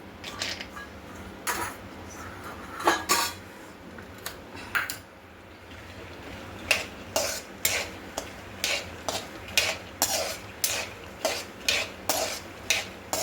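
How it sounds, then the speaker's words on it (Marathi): Dry fruits roast in ghee in a kadhai, a soft sizzle underneath as a spatula scrapes and knocks against the pan in quick repeated strokes, close and fairly loud, with no speech. "कढईमध्ये तूल तूप ओतून घेतलं आहे त्यामध्ये आपल्याला ड्रायफ्रूट भाजून घ्यायचे"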